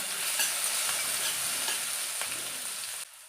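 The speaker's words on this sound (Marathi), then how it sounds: "थोडा कढीपत्ता, अर्धा चमचा मिरचीची पेस्ट छान परतून घेऊया." Curry leaves and green chili paste sizzle steadily in hot oil with mustard and cumin seeds on a low flame, with light crackling and stirring throughout before the sound drops off at the end.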